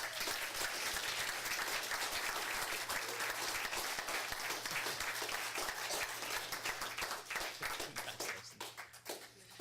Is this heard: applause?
yes